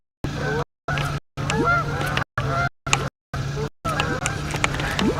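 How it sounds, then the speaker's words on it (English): Geese honk repeatedly by a river, loud, close, overlapping calls in a chattering series, with the sound broken by several abrupt gaps of silence. "Oh, here's some geese."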